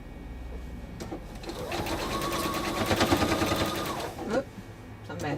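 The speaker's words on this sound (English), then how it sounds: "Keep sewing." A sewing machine runs steadily as it stitches a seam, its rapid mechanical whirr rising and holding for a few seconds before stopping, heard up close and clearly.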